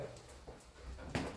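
A dog on a spiral staircase in an old country hotel whimpers and pants softly, faint and close, with a slightly louder whine near the end and no talk.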